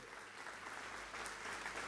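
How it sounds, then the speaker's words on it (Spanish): A church congregation applauds loudly for God during a sermon. The clapping is a steady broadband wash at a moderate distance and swells slightly toward the end. "Dale un aplauso fuerte a Dios"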